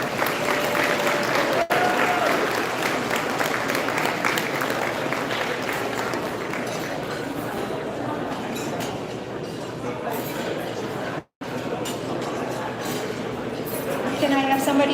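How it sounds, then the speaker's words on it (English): A gala audience gives a long, warm round of applause, a broad, continuous wash of many hands clapping in a large hall, with a few voices and a brief dropout partway through. "please give this group of leaders a warm round of applause"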